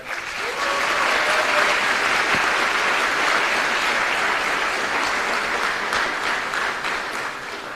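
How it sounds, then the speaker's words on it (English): Audience applauding at the Formula SAE IC 2024 award ceremony for the NC State team: sustained, dense clapping that swells quickly, holds steady and tapers slightly at the end. "So this is your round of applause for NC State Rally"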